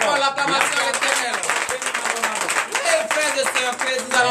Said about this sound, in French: Donnez encore l'acclamation à l'Éternel.